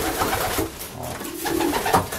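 Racing pigeons cooing in a loft, soft repeated throaty coos at close range, layered over a murmur of other birds and room ambience.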